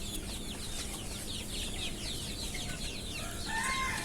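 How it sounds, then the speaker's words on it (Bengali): Young native Bangladeshi deshi chicks on a farm chirp and cluck continuously in a busy, overlapping flock, near and steady throughout, with no talking. "দেখেন মাশাল্লাহ অরিজিনাল দেশি মুরগির বাচ্চা এগুলো"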